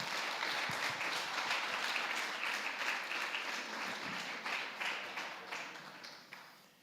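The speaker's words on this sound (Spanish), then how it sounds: "Dale un aplauso al Señor para que te me relaje." A church congregation at a Sunday service applauds, a sustained wash of many hands clapping together, fairly distant and steady, tapering off near the end.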